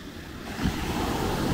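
High ocean waves at Natai Beach in Khao Lak during the dry season, surf washing in with a rising rush and steady roar, with some wind noise against the microphone.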